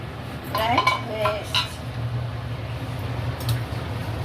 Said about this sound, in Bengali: পাঁচ মিনিট পরে ঢাকাটা খুলে দেখছি ঝোলটা